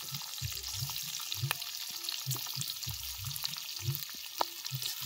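Onions frying in a pan give a steady close hiss, broken by regular low scraping and stirring strokes of a utensil, with no voices.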